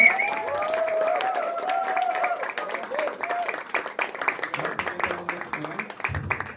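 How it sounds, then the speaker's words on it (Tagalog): Crowd applause and cheering for a speaker at an evening event, dense clapping from many hands with raised voices and shouts over it, thinning out toward the end. "Po tayong lahat, inyong palakpak para sa Mentor Ray Bordaro!"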